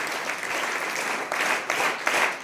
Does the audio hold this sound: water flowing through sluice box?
no